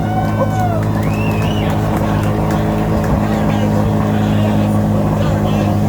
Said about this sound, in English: the brand new 2023 Z06. Come on now. This engine, doesn't it sound slow?